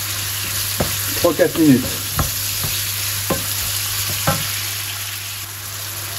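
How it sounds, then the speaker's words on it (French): Onions sautéing in extra virgin olive oil in a pan, a continuous soft sizzle with a few sharp utensil knocks and stirring sounds, close by. A voice briefly speaks. "Les oignons et on va faire revenir"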